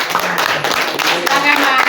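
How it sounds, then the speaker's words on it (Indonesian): A grade 8 class clapping for a student group after a presentation: a brief, close burst of many hands clapping, mixed with voices talking through it. "Tepuk tangan untuk kelompok singkong."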